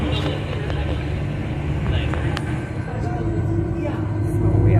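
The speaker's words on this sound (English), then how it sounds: "We are driving on the beach now in the north of New Zealand." Vehicle driving along 90-Mile Beach in northern New Zealand, a steady low engine and road rumble heard from inside, continuous and fairly loud throughout.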